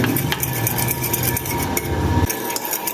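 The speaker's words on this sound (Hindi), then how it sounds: "अब मैं इसको अच्छी तरह मिक्स करूँगी।" A spoon mixes cream in a bowl, giving steady clinks and scrapes against the dish at close range that stop abruptly near the end.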